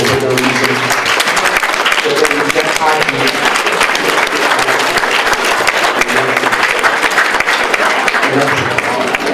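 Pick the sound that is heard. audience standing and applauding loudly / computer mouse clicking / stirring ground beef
audience standing and applauding loudly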